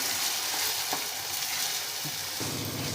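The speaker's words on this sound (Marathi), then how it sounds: "म्हणजे तेल सुटतपर्यंत याला छान शिजू द्यायचं आहे।" Thick masala gravy paste sizzles and fries steadily in hot oil in a pan, a continuous close crackle with occasional stirring scrapes, no voices.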